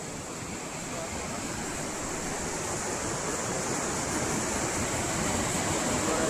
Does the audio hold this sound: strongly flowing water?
yes